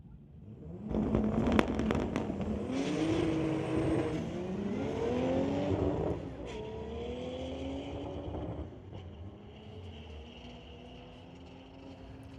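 A 1990 Volkswagen and a 1991 Golf drag racing down a strip, with a sharp launch burst followed by loud engines climbing through several gear changes, then fading into distant running noise.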